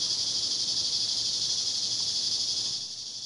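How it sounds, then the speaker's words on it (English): Steady, dense buzz of cicadas chirping outdoors, loud and unbroken throughout, easing slightly near the end. "We're in cicada land again here."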